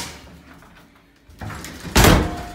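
Leeson Speedmaster elevator door shutting downstairs, with a faint shuffle before a single loud, close slam that rings briefly.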